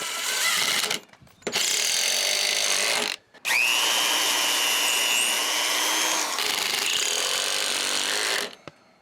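A loud power tool whines steadily in three long bursts, grinding and rubbing against wood, with short pauses between runs.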